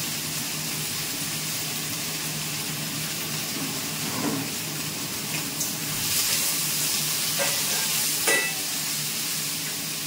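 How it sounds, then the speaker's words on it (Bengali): Beans, carrots, green chillies and capsicum fry in a pan with a loud, continuous close sizzle, broken by a few sharper scraping stirs toward the end and no talking. "আর এদিকে সবজি আছে, বিনস, গাজর, কাঁচা লঙ্কা, ক্যাপসিকাম, এটা ভাজবো।"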